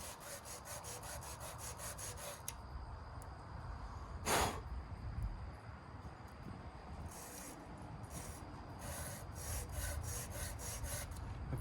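A small file scrapes the ignition points on a Sears garden tractor in steady, repeated rasping strokes, close and continuous.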